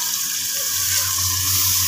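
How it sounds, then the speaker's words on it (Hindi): Water poured into a pan of sizzling masala for shaljam gosht, a steady hissing splash that runs unbroken and fairly loud throughout, with no voices. "और थोड़ा सा पानी भी डाल दूँ साथ ही।"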